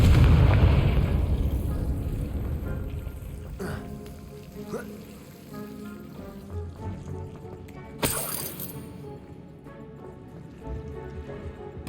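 A Confringo fire spell from Hogwarts Legacy goes off with a heavy boom that fades into a long rumbling tail, followed by scattered crackles and a sharp bright burst partway through.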